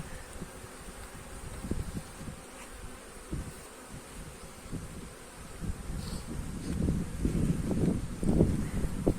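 Honeybees buzzing around an open hive as a beekeeper inspects the frames, a continuous low drone with individual bees passing close to the microphone and the hum swelling louder toward the end, with light wind in the background.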